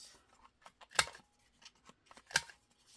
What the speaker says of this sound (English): I'm just gonna trim off the corners.